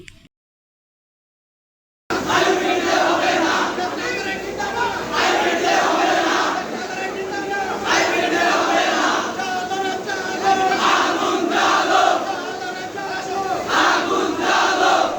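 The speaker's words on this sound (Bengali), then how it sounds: "মৌলবাদী ছাত্ররা ভার্সিটির ক্যাম্পাসে একত্রিত হয়ে স্লোগান দিতে থাকে" A large crowd of students gathered on a university campus chants slogans in loud rhythmic unison, surging in repeated waves after about two seconds of silence and continuing steadily to the end.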